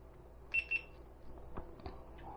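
Two quick high-pitched electronic beeps from a GoPro Max 360 camera, fairly faint, over a low background hum, followed by a few soft clicks.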